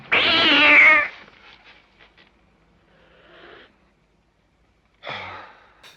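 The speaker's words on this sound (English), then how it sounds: "There's a hissing cat." A cat lets out one loud, harsh hissing yowl lasting about a second, followed by near silence with faint breathy sounds, then a second shorter burst.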